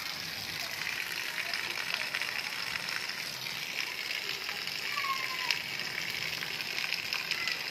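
Steady rain falls over a village, a continuous broadband hiss and patter that stays even and fairly faint throughout, with no voices over it.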